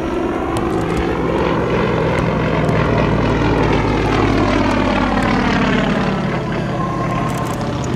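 Propeller airplanes fly overhead at the La Ferté-Alais airshow in France, their engines a loud, steady droning roar that holds throughout with a slowly shifting pitch.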